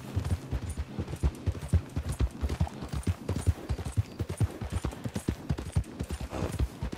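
Horse hooves clip-clop steadily in the Red Dead Online game, a brisk, even rhythm of close, moderately loud hoofbeats with no talking.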